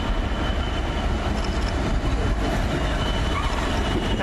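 Freight train at Basingstoke hauled by two Class 66 diesel locomotives, a loud, dense rumble of engines and rolling wagons filling the whole stretch without letup.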